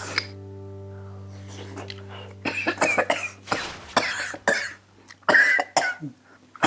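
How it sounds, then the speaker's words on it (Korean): An ill older man coughing at home, a series of harsh, close coughs and throat clearing in uneven bursts over low background hum. "아직도 기침해?"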